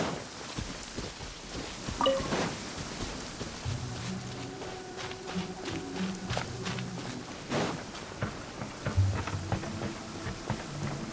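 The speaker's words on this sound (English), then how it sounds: "It's raining again." Rain falls steadily in the video game Grus Serena, a soft hissing patter with scattered heavier drops and faint rumbles running underneath.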